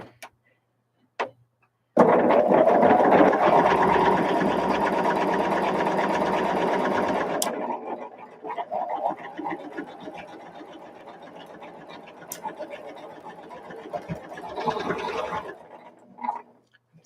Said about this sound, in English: Starting to sew faster.